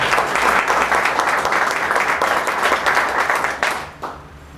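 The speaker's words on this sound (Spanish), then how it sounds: "Un aplauso también para el doctor." Audience at a climate change, energy and water seminar applauding a doctor, a full, steady burst of clapping that ends abruptly after about four seconds, followed by a brief scattered clap.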